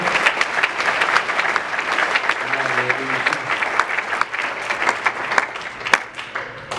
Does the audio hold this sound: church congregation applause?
yes